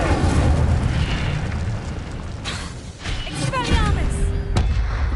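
Incendio fire spell cast in Hogwarts Legacy, loud whooshing bursts and booming impacts amid continuous game combat noise, with a voice speaking over the effects.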